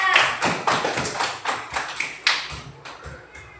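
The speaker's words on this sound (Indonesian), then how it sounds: "Tepuk tangan untuk temannya." A primary school class applauds a classmate for a correct answer, a short burst of steady, close claps from a group of children in a classroom.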